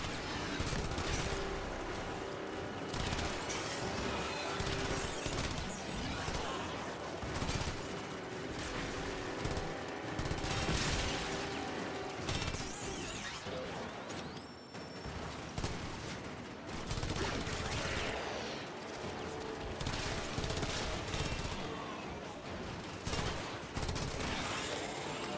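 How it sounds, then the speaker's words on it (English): In Warframe, sustained gunfire rattles on at sapper charges, dense overlapping shots and bursts that continue throughout amid busy combat noise. "I decided to start shooting these little sapper charges because they were getting annoying"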